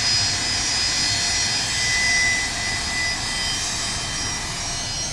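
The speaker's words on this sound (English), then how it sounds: "Those engines are screaming." Gulfstream G450 business jet passing at London Luton Airport, its engines giving a steady, high-pitched whining roar that stays loud throughout with a slight swell and fade, no voices.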